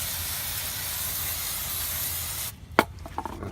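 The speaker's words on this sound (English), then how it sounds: "you're going to want to hit this all with brake cleaner, get all the grease" Brake cleaner sprayed onto the rear brakes of a 2013 Subaru Forester: a steady loud aerosol hiss running about two and a half seconds, then stopping with a few sharp clicks and taps close by.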